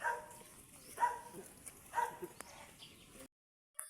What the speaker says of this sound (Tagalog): Wala tao dyan, puro aso.